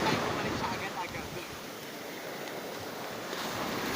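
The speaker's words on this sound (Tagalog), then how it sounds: "So, napakalakas ng alon." Strong ocean waves roll in at a beach in Burgos, Pangasinan on a windy, overcast day, giving a continuous broadband wash of surf mixed with wind rumble on the microphone, steady and fairly close, with no talking.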